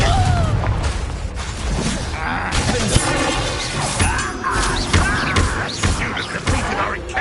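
A Confringo spell explosion in the Hogwarts Legacy video game, a dense booming crash amid continuous game effects and rumble, loud and close, with voices mixed in.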